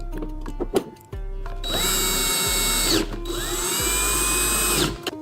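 A power drill drives screws for a TV wall mount, whirring in two long sustained runs at close range with short clicks and pauses before and between, and no talking.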